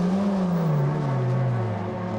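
Rallycross race cars on a British Rallycross circuit flick through a chicane, giving a steady engine drone whose pitch falls and then holds as the cars brake and pass, with no talking.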